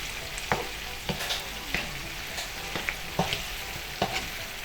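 African giant snail stew sizzles steadily in a pot with red and yellow peppers to come, broken by a string of sharp spoon-stirring clinks and scrapes roughly every half second, close and fairly quiet, no voices.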